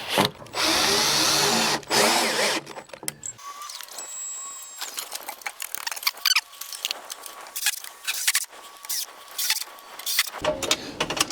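A cordless power drill drives screws while building a new barndominium, with long whirring bursts that stop and start, followed by shorter spurts and clicks of the tool near and loud.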